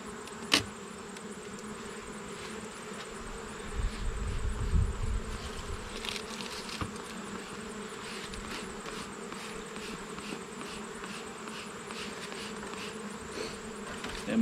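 Steady buzzing of many bees around an open hive during a September beehive inspection, a constant close drone with a few louder passes by individual insects and no talk.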